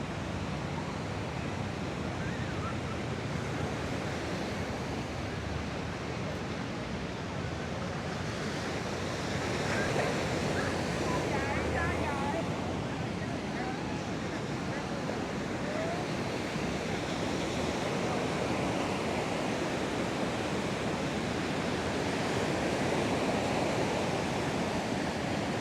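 Ocean waves at Da Nang beach, Vietnam, a continuous broad roar of surf with wind buffeting the microphone, steady and fairly loud throughout with no talk.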